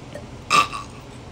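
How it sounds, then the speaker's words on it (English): A single short burp done on command by a young person during a Minecraft session, one loud belch in the middle of an otherwise quiet moment. "Guys, we can burp on command."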